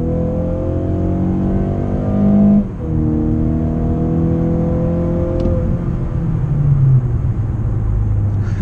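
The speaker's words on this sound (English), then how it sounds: "Pushing it a little bit, it has a nice tone to it." 2018 Mazda 6 fitted with a Corksport short ram intake and muffler, engine revving up through the gears with a smooth rising drone, a brief dip at a shift, then climbing again, steady and fairly close.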